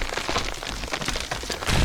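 Steady rain falls in the farming video game Green Project, a dense close hiss of drops on a surface that continues evenly throughout, with no voices.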